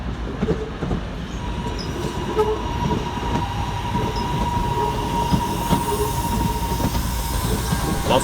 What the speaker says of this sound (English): Whilst departing in the opposite direction is 323235, working the 1706 Northern service through to Crewe.